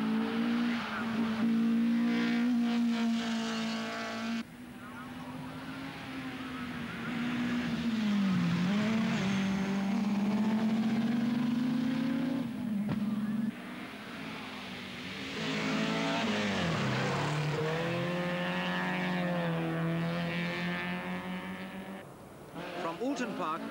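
Hannu Mikkola's Audi Quattro A2 rally car races laps of the Alton Park circuit in Cheshire during the 1983 Lombard RAC Rally, its engine roaring loudly and rising and falling through gear changes, with a commentator talking over it.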